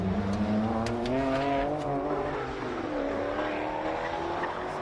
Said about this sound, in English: These cars stream through.